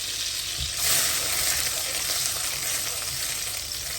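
A very hot pan sizzles loudly as butter goes in for a mushroom butter masala, a steady close hiss that swells briefly near the start, with faint stirring underneath and no speech.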